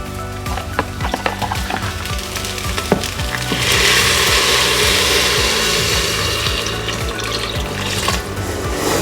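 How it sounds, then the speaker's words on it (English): Chicken or vegetable stock pouring into risotto with bacon in a pressure cooker, a steady liquid splash and gurgle rising midway, with light clinks and taps of utensils around it and no talk. "I'm going to add my stock first"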